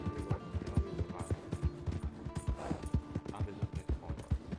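Horse hooves clip-clop steadily in the open-world western game Red Dead Redemption 2, an even walking rhythm of hoof beats heard close, with someone talking over them.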